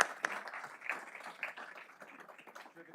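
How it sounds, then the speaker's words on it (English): A school board meeting audience gives a faint, distant round of applause, a thin scattered patter of clapping with a few sharper claps early on, gradually thinning out. "one more big round of applause for our"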